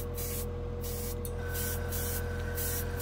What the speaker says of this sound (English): Oh, compressor's turning on.